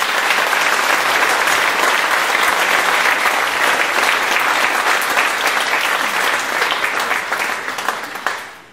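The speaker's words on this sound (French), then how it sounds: "Je vous demande de les applaudir." Audience applause at a French feminism talk welcoming the guests, a dense, steady clapping that stays full for several seconds before thinning out and fading at the end.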